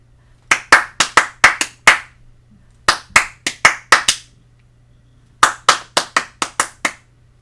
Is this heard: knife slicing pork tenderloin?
no